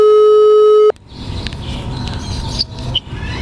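A telephone call tone heard while placing a call, a steady loud electronic tone that stops abruptly after about a second, followed by quiet background noise with a few faint clicks.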